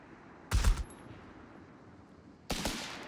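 Units in Company of Heroes 3 open fire in two short, loud bursts of gunfire separated by a pause of about two seconds.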